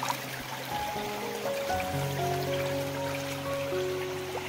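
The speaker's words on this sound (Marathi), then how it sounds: "तर मित्रांनो, इथं बघू शकता एक झरा आहे" A small stream trickles and flows steadily in monsoon rain on a hillside trail in Konkan, a continuous close wash of water with rain pattering over it, no talking.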